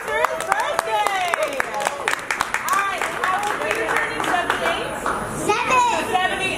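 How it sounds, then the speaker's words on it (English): Guests at Dimitri's birthday party clap in a burst of scattered applause with cheering voices mixed in, and people talk over the clapping throughout. "Can I get a round of applause for his birthday?"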